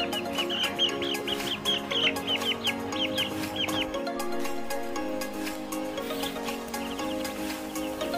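Laying hens in a coop keep up repeated, overlapping clucks and squawks close by, busiest in the first half, with a continuous murmur of other birds underneath.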